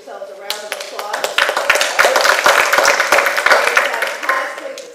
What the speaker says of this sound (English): So I'd like you all to give yourselves a round of applause.